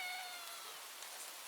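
A cat meows in a video game, a short high mewing call at the start that fades into a steady rain-like hiss of ambient game sound, with no talking.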